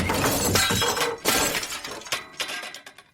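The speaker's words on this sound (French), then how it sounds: "un bruit fracassant de verre brisé retentit à l'étage" Glass smashes loudly, followed by several more crashes and tinkling shards scattering and settling, fading out over a few seconds.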